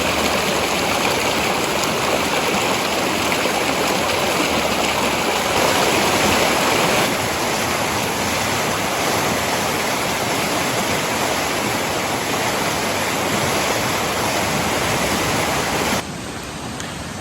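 The Bear River rushes through the woods near Petoskey, Michigan, in bad weather, a loud, steady, close roar of flowing water that drops slightly in level near the end, with no talking.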